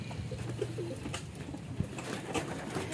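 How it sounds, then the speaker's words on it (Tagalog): Pigeons in the hen and cock section of a large racing loft, soft cooing calls repeating at moderate distance over faint background noise and an occasional rustle. "Oh, mga ibon ko"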